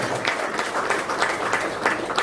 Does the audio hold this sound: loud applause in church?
yes